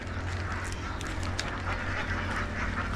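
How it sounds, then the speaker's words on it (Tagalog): Ducks on a farm quack repeatedly, a steady chorus of calls close by over a constant low background hum. "Ayan, yung mga itik, oh. Ang dami."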